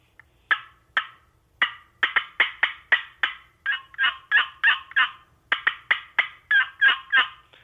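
A box call imitates an excited hen turkey with sharp cuts and yelps: a rapid, irregular string of loud, raspy notes, some isolated and some in tight bursts, heard close and alone against a quiet background.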